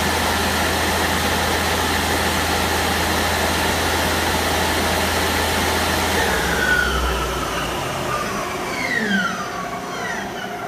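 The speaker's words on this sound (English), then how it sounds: "Spindle sounds very healthy, the bearings sound really good." A Yang CK2A CNC turning center lathe with Fanuc control runs its spindle at about 3,500 to 3,800 RPM, giving a steady, even mechanical drone and hum that holds throughout with no talking.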